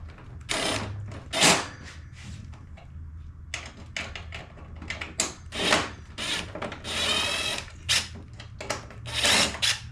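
A power drill removes small screws from the back piece of a Cub Cadet CC30H riding mower deck. Several short, close whirring bursts stop and start in an uneven rhythm, with quiet scraping and handling noises between them.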